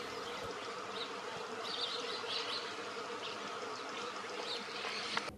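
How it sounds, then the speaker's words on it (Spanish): Bees visit a willow tree full of flowers, a soft, continuous buzzing hum heard outdoors at low level with faint bird chirps in the background. "Como este sauce, repleto de flores que son visitadas por las abejas."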